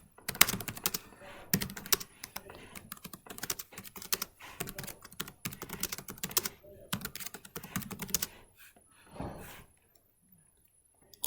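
Typing on a computer keyboard while entering a workshop description, with rapid bursts of close key clicks broken by short pauses, trailing off into near silence at the end.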